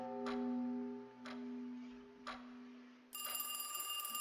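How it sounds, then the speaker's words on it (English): A telephone begins ringing in the video game Satori's Love Counsel: bright, sustained electronic ringing starts abruptly near the end, after three soft ticking thuds spaced about a second apart over a low steady hum. "Now the phone's ringing?"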